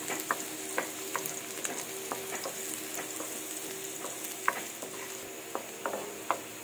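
Garlic sizzles gently in hot red-tinted oil for chicken sotanghon soup, a steady soft frying hiss broken by small stirring clicks and scrapes in the pan, close and fairly quiet, with no talk.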